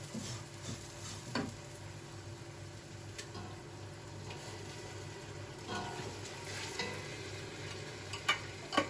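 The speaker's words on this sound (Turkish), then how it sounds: "Pilavım kavruluyor burada." Rice for pilaf toasting in a pan, a faint steady sizzle under occasional spoon scrapes and light clicks against the pan, quiet and close, with a couple of sharper knocks near the end.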